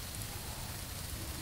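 Steady rain falls outdoors during a paintball session, a dense, even hiss of drops hitting surfaces close by with no other sounds standing out.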